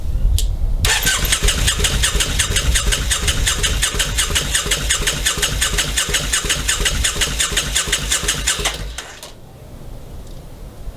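Motorcycle starter cranking an engine with a gummed-up carburetor that refuses to fire: a steady, rapid chugging whir runs loud and close for about eight seconds, then cuts off, leaving quiet background hiss.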